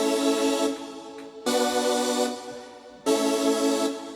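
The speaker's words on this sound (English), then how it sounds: "So I went and I added a saw lead." A synthesizer saw lead plays a melody in a beat, sounding as three bright, buzzy sustained notes with short gaps between them, loud and alone.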